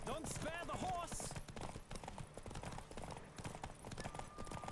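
A horse's hooves clip-clop at a steady rhythm as the rider gallops in The Witcher, close and continuous beneath someone talking and faint game sounds.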